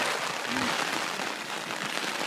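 Steady rain shower pouring down outdoors, a dense even hiss of drops striking surfaces throughout, with no voices.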